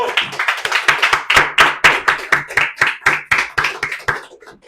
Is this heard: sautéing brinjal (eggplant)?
no